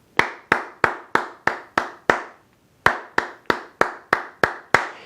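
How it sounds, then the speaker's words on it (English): Hands clap a rhythm: six sharp, close claps in an even pattern, a short pause, then seven more. Each clap is crisp and loud with a quick decay, and no one talks. "Hide the singing in your head and clap the rhythm."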